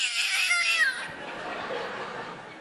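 A person imitates a cat with a short, whiny high-pitched meow, then breaks into laughter and breathy noise that fades away.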